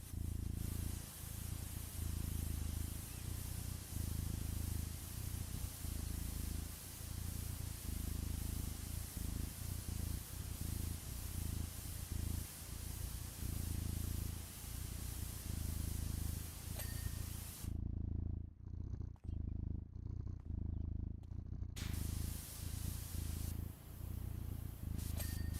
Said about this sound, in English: My cat never stops purring through music time.